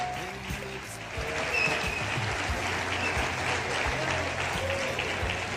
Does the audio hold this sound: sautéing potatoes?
no